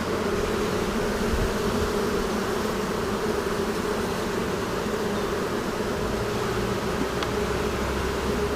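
A relocated swarm of honeybees hums in a dense, continuous drone inside a hive on a farm, steady and close without pause.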